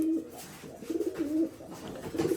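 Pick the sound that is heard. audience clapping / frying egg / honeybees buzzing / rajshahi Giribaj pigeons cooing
rajshahi Giribaj pigeons cooing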